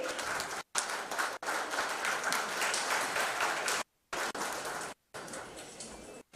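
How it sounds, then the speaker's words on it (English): Audience applause at a Clean Ganga mission event, sustained dense clapping broken by several abrupt silent gaps, moderately loud and with no voices over it. "Big round of applause."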